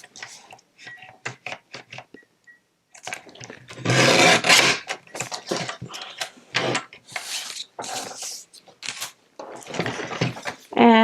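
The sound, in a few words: trimming paper card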